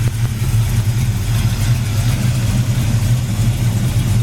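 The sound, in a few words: 1968 Chevy Chevelle Malibu 454 V8 engine running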